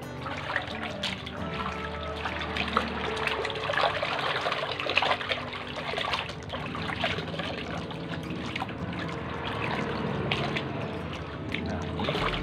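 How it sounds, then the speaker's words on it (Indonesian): Boiled fishing line is washed in water, with continuous close trickling and sloshing as it is rinsed and moved around, a steady wet splashing throughout. "kita cuci. Kita masukkan ke dalam air,"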